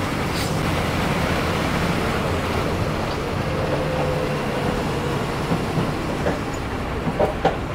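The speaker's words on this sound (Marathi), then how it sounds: "आणि जाते ट्रेन, दिसते का हे बघा." A train passes by, heard from a vehicle travelling between Borivali and Shindkheda, as a steady broad rumble with faint rhythmic clacks toward the end, moderately distant.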